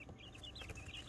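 Newly hatched quail chicks peeping, a faint run of high, thin chirps close by over a quiet background.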